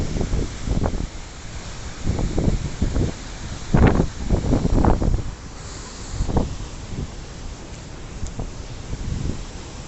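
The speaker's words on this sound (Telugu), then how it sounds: "గాలి చూడండి అసలు బోటు పాప వెళ్ళలేకపోతుంది" Strong gusts buffet the microphone in loud, uneven bursts, with a steady rush of falling water underneath, at Chitrakoot waterfall near Jagdalpur.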